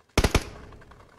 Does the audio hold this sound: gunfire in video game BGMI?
yes